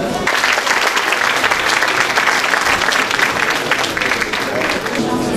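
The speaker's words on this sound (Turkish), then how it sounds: "koromuzu ve saz heyetimizi alkışlarınızla sahneye davet ediyoruz." A concert audience gives loud, sustained applause as a Turkish folk music choir and saz ensemble from the Yalova Municipality Conservatory is welcomed onto the stage. Dense, continuous clapping fills the hall without a break.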